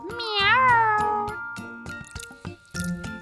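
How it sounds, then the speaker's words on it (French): A cat meows several times, one long rising and falling cry followed by shorter mews, close and clear over faint background sounds. "C'est un chat!"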